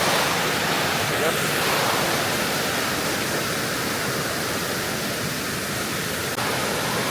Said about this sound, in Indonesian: kita mau lewatin waterfall di sini